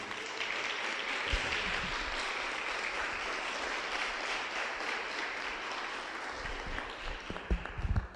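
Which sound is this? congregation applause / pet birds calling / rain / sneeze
congregation applause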